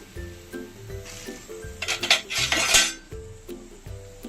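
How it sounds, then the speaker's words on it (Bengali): A spoon stirs soybeans in hot salted water in a metal pot, with a series of close clinks and scrapes against the pot. A brief burst of louder rattling comes midway, and no one talks. "এখন নাড়িয়ে দিচ্ছি"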